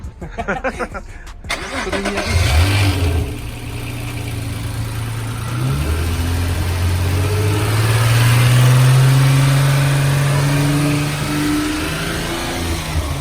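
A Nissan GT-R engine starts after a brief bit of noise, then idles and gradually accelerates, its tone rising and falling through several revs into a sustained drone, heard close with some voices in the background.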